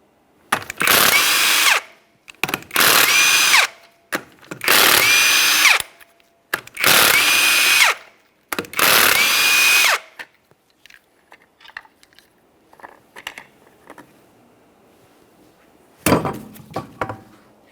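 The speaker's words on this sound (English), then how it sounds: "remove all 5 of your 19mm lug nuts, your center cap assuming you have one, and the wheel" Power tool spinning off five 19mm lug nuts from a Jeep Patriot rear wheel: five loud, steady whirring bursts about a second each with brief gaps, then quiet clinks and one final short burst.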